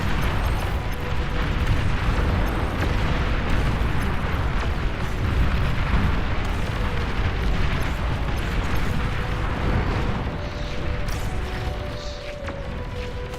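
Commander units exploding in the real-time strategy game Beyond All Reason: sustained heavy rumble of blasts and mechanical battle din, loud and continuous, easing slightly toward the end.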